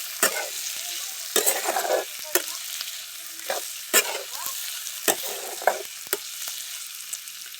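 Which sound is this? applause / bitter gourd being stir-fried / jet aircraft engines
bitter gourd being stir-fried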